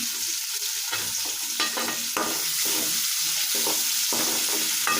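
Sliced onions crackle in hot oil with curry leaves as a spatula stirs them around the pan, a continuous close sizzle broken by regular scraping strokes.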